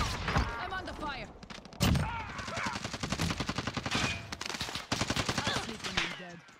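Gunfire in the video game Warzone, rapid automatic bursts and single shots crackling close by in a loud, busy firefight with an explosive thump, continuing across the whole stretch.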